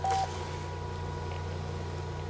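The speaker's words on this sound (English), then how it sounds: "I'm just dialing in my local number to the host." A telephone modem dials a local number to reach a remote host, a short bright tone burst at the start followed by a steady low hum of line noise.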